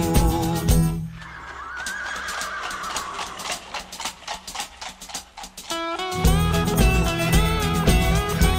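A horse neighing inside a song: a long whinny rises over the track after a pause in the music, with clopping-like rhythmic beats underneath before the full band returns loudly.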